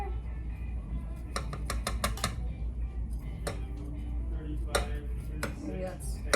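A utensil scrapes and taps against a dish while scooping out smoked berry cobbler, with scattered light clicks over a low steady background hum, close and fairly quiet.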